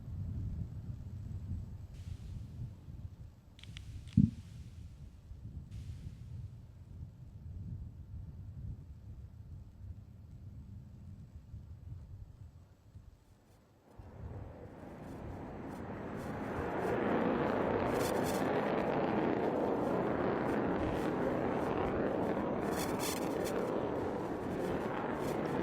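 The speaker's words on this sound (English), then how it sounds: "He will then climb in the vertical, demonstrating the power of the Lightning II as he accelerates away from the ground." An F-35 Lightning II fighter jet at a Navy air show roars as it climbs vertically and accelerates away, a broad, loud jet rumble that builds midway and then holds steady and strong, with no talk over it.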